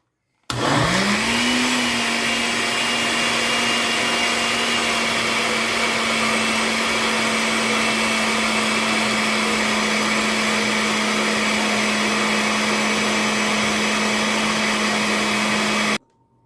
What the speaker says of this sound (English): I'm going to blend till it is very smooth